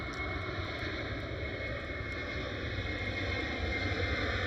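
A Finnair Airbus A330 takes off at Amsterdam Schiphol with a steady, broad jet roar that holds even and fairly loud throughout, heard from a distance without voices.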